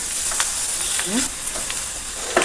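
Tomato dropped into a hot pan of salted, fried-down onion mixture for a Kerala beef roast, giving a steady close sizzle with a few brief scraping stirs.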